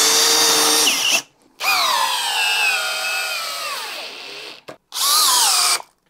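A DeWalt hammer drill whines loudly under load, its pitch sagging as the motor bogs and cuts out, then runs again in short bursts.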